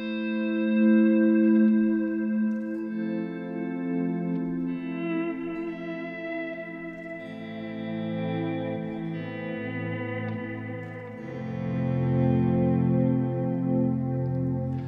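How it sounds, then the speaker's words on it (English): Ambient electric guitar chords swell in softly through a delay pedal and reverb, sustained tones blooming and overlapping into a wash with echoing repeats and no talking. "You just put on a delay pedal and maybe some reverb, and this is the main sound of ambient guitar play."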